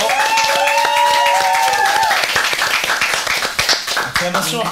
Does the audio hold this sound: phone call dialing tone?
no